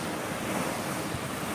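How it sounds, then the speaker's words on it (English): Steady rush of wind and waves aboard the sailboat Fast Exit, racing the 2025 Transpac in a good breeze; a continuous, fairly loud broadband wash of water and wind noise with no talking. "Blasting along with a nice breeze."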